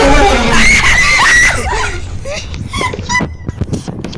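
Loud, shrill screaming erupts at the start of a Roblox horror game, School of Nightmares, then breaks into frantic voices and yelps that fade to scattered shouts and talk.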